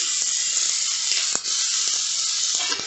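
Small sambar onions and tomato sauté in a pan with a steady, close, loud sizzle and hiss, broken by a few brief scraping stirs.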